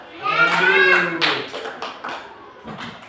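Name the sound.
group clapping hands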